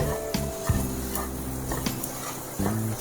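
Coriander powder fries in oil in a pan for gongura pulav, with a soft sizzle and a few sharp spoon taps and scrapes, close and alone.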